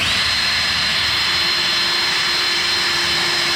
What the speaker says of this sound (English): Now it's cutting it. Just using an abrasive